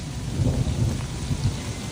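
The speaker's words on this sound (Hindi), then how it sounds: "जिस तरह की बारिश हो रही है ना," Heavy rain pours steadily on surfaces during a thunderstorm in an apple-growing hill area, with deep thunder rumbling continuously underneath and no voices.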